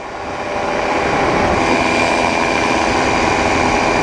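A Flylight ADAM (Atom) microlight aircraft climbs out at full power after a leisurely takeoff, its engine droning steadily and loudly and building over the first half second to a constant roar. No one speaks.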